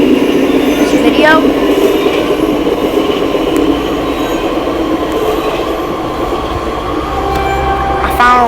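An Amtrak train runs in a Northeast Corridor train simulator game, giving a loud continuous rail rumble with rising whines and squeals from the wheels and motors, heard close throughout.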